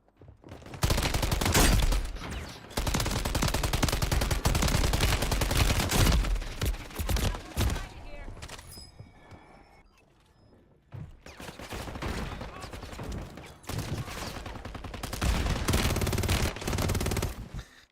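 Sustained automatic gunfire in a video game squad battle, dense bursts loud and close for most of the stretch, with a brief quieter lull in the middle before firing resumes.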